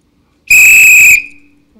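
A single loud, shrill whistle blast lasting about a second, piercing and close, then fading quickly into silence.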